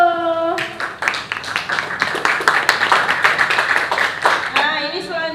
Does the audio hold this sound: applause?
yes